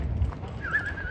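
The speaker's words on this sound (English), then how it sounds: "It's a proper donkey derby." Donkeys running in a donkey derby at a farm, a steady low drumming of hooves with a brief high whinny partway through, fairly close.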